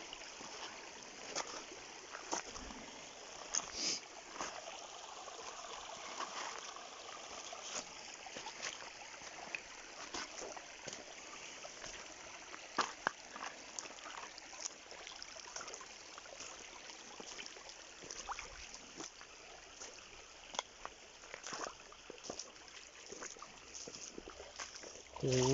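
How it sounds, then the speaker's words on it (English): Footsteps wade through shallow creek water in East Palestine, Ohio, with soft sloshes and trickles recurring over a long stretch and occasional faint speech. "That's what I'm walking through the water in, guys."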